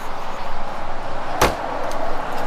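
A thick baggage door on an Alliance 390MP mid-bunk fifth wheel RV shuts with a single sharp, close thud partway through, set against a faint, steady outdoor background.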